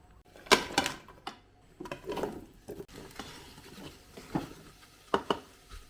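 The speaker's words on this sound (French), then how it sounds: "on va mettre les 3 ingrédients que j'ai coupés dedans, et on fait ça dorer quelques minutes" Chopped vegetables and onions browning in a Cookeo multicooker give off intermittent scraping and clattering as they are stirred in the pot, a few sharp knocks separated by quieter gaps.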